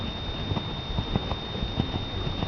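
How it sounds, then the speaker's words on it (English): A horse cantering on a farm, its hooves drumming in a quick repeating three-beat rhythm, fairly close and clear with no talking. "And then the next speed up is called the canter."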